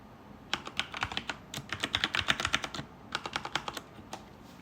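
Quick bursts of keystrokes on a computer keyboard as a username and password are typed in, the clicks close and fairly soft, with a short pause partway through.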